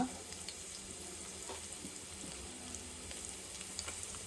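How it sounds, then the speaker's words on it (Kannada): Chopped garlic frying in a pan as it turns golden, a steady soft sizzle with faint crackles and occasional light stirring scrapes throughout, no voices. "ಈ ಬೆಳ್ಳುಳ್ಳಿ ಸ್ವಲ್ಪ ಗೋಲ್ಡನ್ ಕಲರ್ ಫ್ರೈ ಆಗಬೇಕು"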